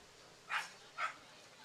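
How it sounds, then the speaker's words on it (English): A dog gives two short barks in the distance at a baseball playoff game, faint over the ballpark ambience. "we get more barks from the dog."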